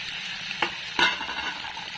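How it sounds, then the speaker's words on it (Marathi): Boiled, mashed eggplant goes into a frying pan with fried chilies for a spicy eggplant bharit, giving a soft sizzle with two quick scraping stirs of a spoon close by. "आता आपण वांग, बारीक केलेलं वांग टाकणार आहे उकडलेलं."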